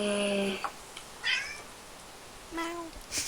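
A cat in the game Minecraft meows a few times, each call short and clear with pauses between, against a quiet background.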